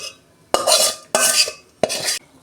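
Spice paste being mixed by hand into red potatoes in a bowl for cutlets: three loud, close bursts of squelching, scraping stirring, each about half a second long, separated by short pauses.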